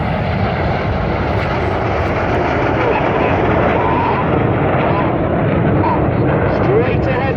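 Red Arrows jets flying close in formation at an airshow in Ayr, a steady loud broadband roar holding throughout with slight swells, under an announcer's commentary.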